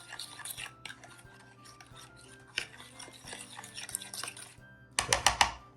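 Egg custard pie filling being stirred in a bowl, a spoon clinking and scraping against the sides in a steady rhythm, up close, with a louder burst of clattering near the end.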